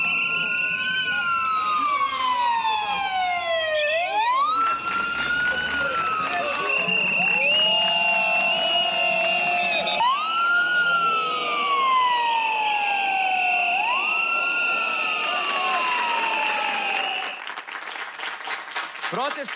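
Wailing ambulance siren sweeping up and down in loud, repeated rising and falling cycles, with a second siren tone layered over it, from an ambulance stuck in a crowd of protesters, with crowd noise and cheering throughout.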